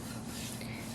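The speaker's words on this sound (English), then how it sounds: "after you sand the top, of course you want to sand the bottom also" Steady, close rasping of sandpaper rubbed across the wooden top of a makeup vanity, a continuous scratchy friction sound with no pauses or voices.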